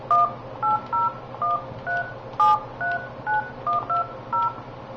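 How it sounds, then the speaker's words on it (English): Touch-tone DTMF dialing on an Avaya 9611 IP desk phone on an IP Office system, about a dozen short, evenly spaced key tones in quick succession over a low steady hum, close and clear. "you must dial a 9 first to make an outbound call"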